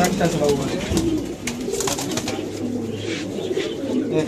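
Racing pigeons cooing in a loft, soft repeated throaty coos at close range amid rustling, with people talking over them.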